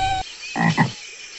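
A poison dart frog of the rainforest croaks twice in quick succession, close and fairly loud, with a short tonal call before it and quiet background after.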